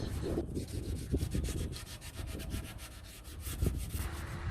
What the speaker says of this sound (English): I'm trying to scrub it hard and quickly, but at the moment I'm just focusing on one section at a time